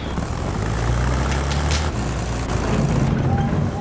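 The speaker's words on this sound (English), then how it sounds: "Quick, look up, plane." A propeller airplane flies overhead in the World War I shooter Battlefield 1, a steady droning engine roar that swells slightly, mixed with faint battlefield noise.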